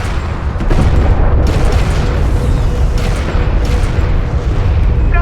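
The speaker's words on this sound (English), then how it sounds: "Strike craft destroyed." Strike craft blowing apart in the real-time strategy game Homeworld: Deserts of Kharak, a dense, rumbling explosion that swells after a brief moment and sustains loudly amid continuous battle noise, with faint crackling bursts.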